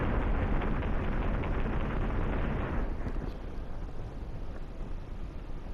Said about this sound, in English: I shot only with machine guns